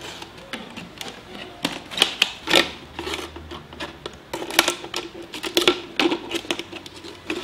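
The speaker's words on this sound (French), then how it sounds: "on va prendre les ciseaux, on va finir de découper la bouteille" A plastic bottle is cut with a cutter and scissors, giving close, irregular scraping and snipping clicks that come in bursts throughout, with no talking.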